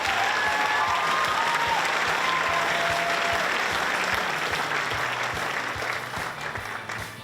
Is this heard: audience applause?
yes